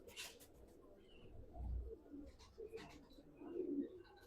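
Faint, soft cooing comes from an Abba-breed flying pigeon, a few low murmuring calls spread across a quiet background.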